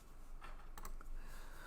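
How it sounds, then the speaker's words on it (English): Faint computer keyboard typing, a few soft key clicks in a short run over quiet background hiss. "I'm going to type"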